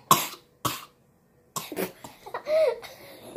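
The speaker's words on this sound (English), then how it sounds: "You were laughing and coughing at the same time." Someone coughs while laughing, giving a few sharp close bursts followed by breathy giggling and a squeaky laugh.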